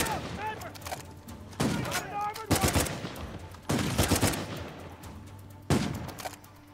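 Gunfire from a sniper rifle in the Uncharted 4 video game comes in loud, sharp bursts spaced a second or two apart, with someone talking between the shots.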